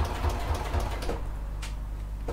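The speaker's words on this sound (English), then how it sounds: "So once again, I'm just stitching up, across and down." A sewing machine stitching a seam on a clutch bag, a steady low mechanical hum with a faint rapid needle patter, running continuously at moderate level.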